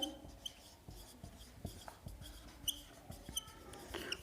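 A teacher writes a maths proof on a board, the scratchy strokes and taps coming close and fairly quiet, in short rhythmic bursts with faint room noise.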